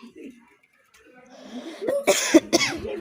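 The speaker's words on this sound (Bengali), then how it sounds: "তার মধ্যে হয়েছে খুসখুস করে কাশি" A few sharp, dry coughs burst out close by near the end, after faint murmuring and rustling.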